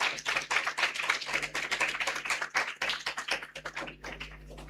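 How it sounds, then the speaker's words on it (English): An audience at a summer camp graduation ceremony applauding the parents, dense rapid clapping from many hands that continues steadily and thins slightly toward the end. "Let us give our parents a round of applause too."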